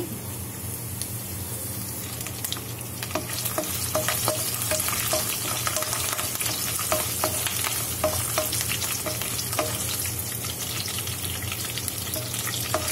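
Coconut pieces and curry leaves frying in hot oil in a pan for a Kerala-style chicken roast: a loud, constant close sizzle with repeated sharp spatula scrapes and clicks from stirring, with no voice.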